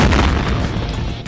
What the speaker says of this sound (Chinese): 用 C4 来引爆这辆小敞篷，那爆炸声会和电影中的相似吗？